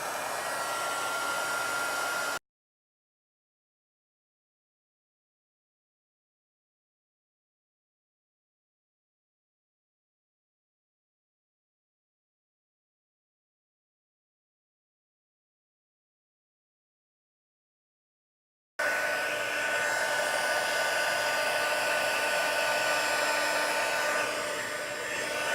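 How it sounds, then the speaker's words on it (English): A heat gun blows while setting embossing powder on a handmade Christmas card: a steady whooshing roar for a couple of seconds, a long silent gap, then the same loud airflow resumes for several more seconds. "And I'm going to use my heat gun, my heat tool."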